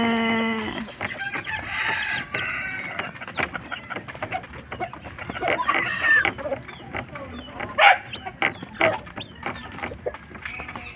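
Seven-day-old chicks cheep in scattered bursts, joined by clucking and a crow-like call from nearby fowl, moderately loud and irregular throughout.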